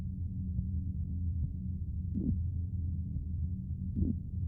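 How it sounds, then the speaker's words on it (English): A low, muffled heartbeat pulses twice, about two seconds apart, over a steady deep hum in the dark ambience of the video game Netherwhisper, with no speech. "I think there's our heartbeat."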